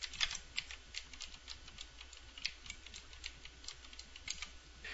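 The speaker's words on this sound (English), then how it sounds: "Start over with the typing." Soft, quick keystrokes on a computer keyboard tap in an uneven run, faint and close, with no talking over them.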